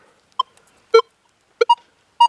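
Short electronic beeps from a metal detector come in irregular bursts, a single tone, then a doubled stuttering blip, then another, clean against silence.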